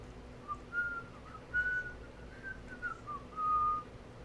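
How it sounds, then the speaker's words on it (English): A person whistles the Jurassic Park theme melody alone, a handful of sustained and sliding notes over quiet room noise, fairly close and soft. "Would I get demonetized for whistling Jurassic Park?"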